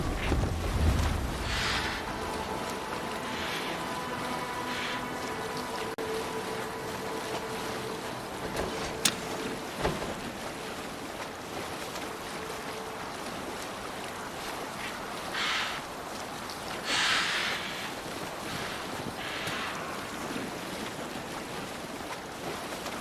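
A Viking longship sails through open sea in Assassin's Creed Valhalla, with steady wind roaring across the microphone and waves washing against the hull throughout, swelling in louder gusts.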